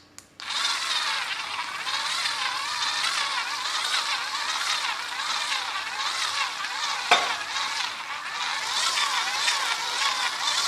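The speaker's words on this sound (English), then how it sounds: "you're going to mix until this mixture is light and fluffy" Margarine and sugar being mixed until light and fluffy for eggless oat cookies: a steady, close whirring and churning that carries on without a break, with one brief knock partway through and no talk.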